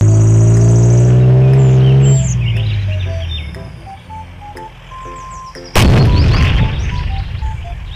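A steel tank explodes in one sudden, loud blast about two-thirds of the way through, preceded by a sustained tone and short chirping tones, with the rumble fading out afterward.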